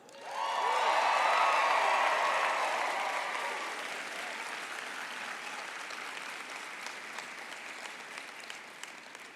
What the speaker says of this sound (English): Graduates, did you hear those cheers?